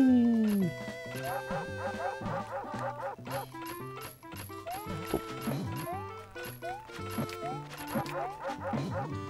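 Chain Chomp (Wanwan) from the New Super Mario Bros. video game gives short yapping barks over bright, bouncy game music with chiming notes, the barks repeating at irregular moments throughout.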